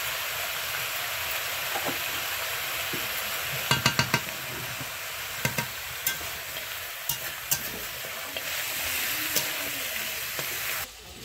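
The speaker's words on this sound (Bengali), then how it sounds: "এদিকে মাংসটা কষিয়ে দেবো" Meat, seasoned with salt and turmeric, sautés in a pan with a steady hissing sizzle, punctuated by a quick series of sharp utensil taps and a few scattered clinks.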